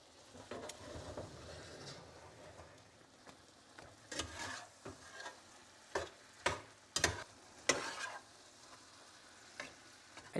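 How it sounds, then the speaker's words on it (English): Frozen-ingredient chili stirred in a pan, a quiet sizzle broken by scattered scraping and clacking strokes of a utensil, close and irregular, with no talking. "I'm going to stir this a bit, and then I'm going to add the vegetables."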